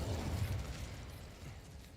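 A fire spell, Incendio, cast in a video game: a low rumbling whoosh with crackling bursts, strongest in the first half and then fading to a quieter burning hiss.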